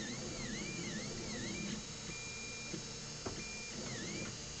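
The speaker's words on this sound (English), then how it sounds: "So we're still printing in white." A Tevo Tarantula Pro 3D printer fitted with an E3D Chimera hot end runs a print in white filament, giving off a steady mechanical whir with repeating swooping stepper-motor whines and a few small clicks, close by and alone.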